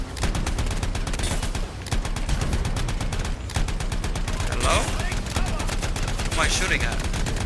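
Dense, rapid gunfire from the video game Anthem, played on hard difficulty as a Ranger, rattles on nearly nonstop in loud bursts with layered impacts and sci-fi weapon effects, with no pauses and no talk.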